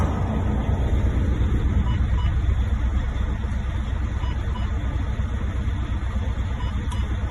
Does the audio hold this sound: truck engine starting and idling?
yes